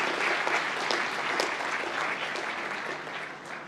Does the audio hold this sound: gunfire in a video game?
no